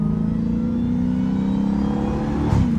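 A catless Dodge Hellcat on a curvy road makes a short pull, its engine a loud, close, droning tone that climbs steadily in pitch and ends with a brief burst near the end.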